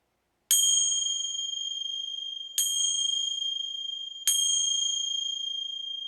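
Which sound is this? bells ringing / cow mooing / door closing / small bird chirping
bells ringing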